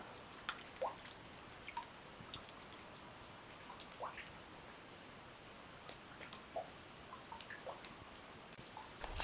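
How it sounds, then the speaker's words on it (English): Irregular drops of meltwater from snow and ice fall and plink onto a wet surface in a quiet space, each drip faint but distinct. "You can see the water dripping down."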